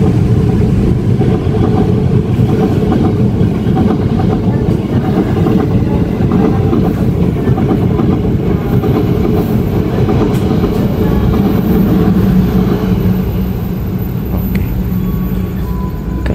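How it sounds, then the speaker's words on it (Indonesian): A passing Gajayana train rumbles steadily alongside a moving Tegal Bahari business-class train on Java, loud and continuous with rhythmic wheel clatter throughout. "Ini ada kereta pemerintah langsung kereta apa ini?"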